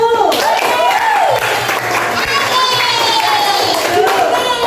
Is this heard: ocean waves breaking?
no